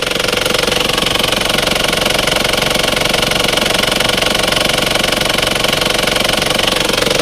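An Isuzu TFR pickup truck's diesel engine idles steadily nearby, a continuous loud rhythmic knocking rumble with no talking.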